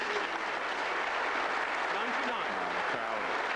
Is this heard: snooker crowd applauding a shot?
yes